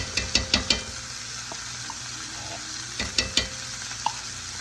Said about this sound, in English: And we'll stir it up.